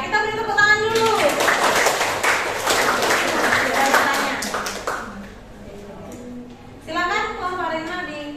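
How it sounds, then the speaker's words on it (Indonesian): Applause and clapping from a group of teachers at a presentation fills most of the clip, with voices talking before and after it. "Ya, kita beri tepuk tangan dulu."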